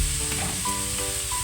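Vegetables frying in a pan for ginisang sayote, giving a continuous close, moderately loud sizzle throughout with no talking.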